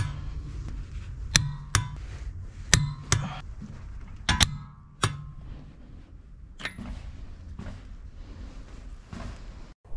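A torque wrench on car wheel nuts set to 108 Nm while swapping to studless winter tires. Sharp, bright metallic clicks and clinks come in an irregular series, loud and close, over low background rumble with no talk.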